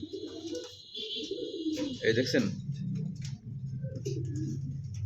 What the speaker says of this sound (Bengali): দুর্দান্ত কোয়ালিটির এক জোড়া মুখী কবুতর